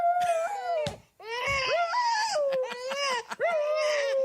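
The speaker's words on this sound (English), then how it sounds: "when she cries, the dog, the wiener dog Butters, howls" A dachshund howls in long, wavering tones alongside a crying baby, the two voices overlapping and rising and falling together, loud and close with brief pauses between bursts.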